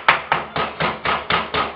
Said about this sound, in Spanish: lo que vamos a hacer con el martillo es dar unos golpecitos